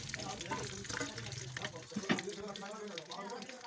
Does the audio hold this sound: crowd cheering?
no